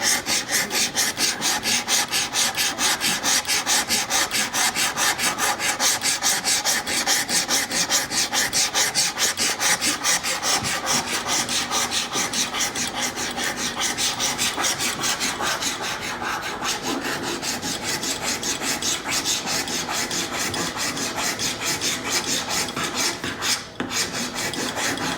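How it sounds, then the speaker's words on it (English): Flat side of a mill file rasping away hardened epoxy putty, loud and close, with a steady run of rhythmic back-and-forth strokes that continues alone for the whole stretch. "I'm starting to cut it away with the flat part of my mill file"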